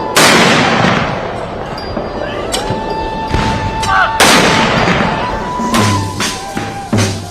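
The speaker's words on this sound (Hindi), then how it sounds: "भारतीय सेना ने 17 तोपों की सलामी देकर अपने पहले सीडीएस को आखिरी विदाई दी।" A 17-gun cannon salute is fired at the state military funeral of India's first Chief of Defence Staff, General Rawat. Loud booming blasts come at intervals, each echoing outdoors, with fainter background sounds between them.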